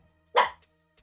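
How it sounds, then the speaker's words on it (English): A single sharp bark from a dog indoors, heard close and fairly loud, a short burst standing alone against a quiet room. "So sorry if you guys can hear her barking."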